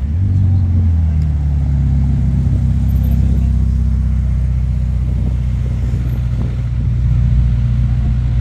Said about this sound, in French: Encore le défilé, regardez-moi ça. SF90 dans un très beau rouge.